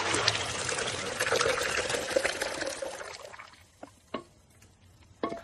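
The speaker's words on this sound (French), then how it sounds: "On verse le thé bouillant dans le dongmu." Boiling butter tea poured into a wooden dongmu churn in Tibet, a loud continuous splashing stream lasting a few seconds before it stops, followed by a few faint knocks.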